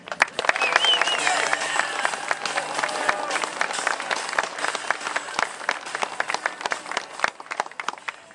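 Crowd applause at an outdoor Second Amendment rally in the cold, welcoming North Carolina state Representative Larry Pittman; loud, dense clapping sustained for about eight seconds with scattered cheers and voices mixed in.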